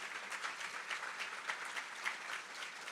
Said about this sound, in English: Can we give a round of applause for both Joe and Nakia?